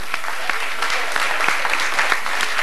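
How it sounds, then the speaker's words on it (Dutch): Audience applause at the end of a live stage show, thanking the lighting and sound crew: dense, steady clapping from a crowd that holds at an even, fairly loud level throughout. "om de twee dames boven ook een hartelijk applaus te geven voor de belichting Els en voor het geluid Julie"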